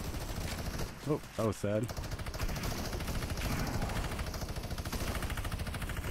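Rapid bursts of gunfire in the video game Fortnite rattle on in quick, dense repetition throughout, fairly loud and close, while a player speaks briefly over them.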